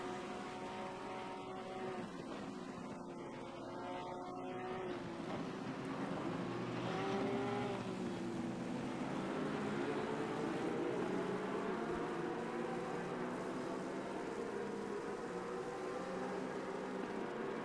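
BMW, Lamborghini and Porsche race cars roar around Silverstone, a blended, distant engine drone rising and falling with shifting pitch as the cars pass, steady throughout.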